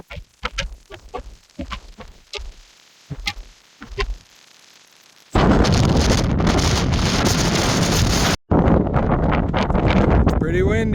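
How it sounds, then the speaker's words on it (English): Roaring, buffeting wind blasts hard against the microphone on a mountain near Lake Tahoe, loud and continuous, cutting out for an instant before gusting back, after a stretch of quieter outdoor sounds. "It's pretty windy."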